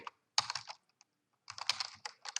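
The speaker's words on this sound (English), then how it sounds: "Notice as soon as I started typing Barney Rubble, it put a 1 in here." Two quick bursts of typing on a computer keyboard, rapid key clicks separated by a short pause, close and clear.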